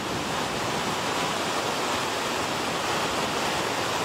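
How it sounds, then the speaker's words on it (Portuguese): Floodwater torrent rushing down a hillside in a neighbourhood during heavy rain, so much water that waves form; a loud, continuous roaring wash of broadband noise, steady and close, with no voices. "No Santa Luzia, moradores registraram a enxurrada que desceu do morro. Era tanta água que houve a formação de ondas."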